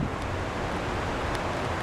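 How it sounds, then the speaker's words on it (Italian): Strong outdoor wind rushes steadily against the microphone as a dense, continuous roar with no pauses. "C'è tanto vento su"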